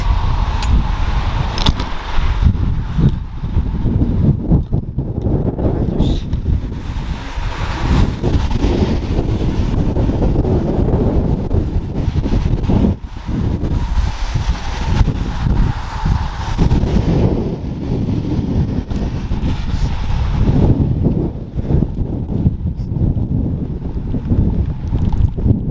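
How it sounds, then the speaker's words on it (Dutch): Strong gusting wind in bad rainy weather, blowing against a door, a constant loud roar of wind buffeting the microphone with rumbling low noise throughout. "De wind zit tegen de deur."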